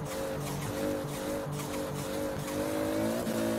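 Engine of the Eliminator car in Forza Horizon 4 held at full throttle, a steady loud high-revving drone with rising gear pitch sweeps and brief shifts, continuous throughout with no talk.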